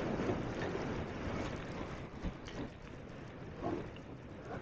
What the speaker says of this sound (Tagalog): Ito yung update ng bagyo rito. May kalakasan ng hangin.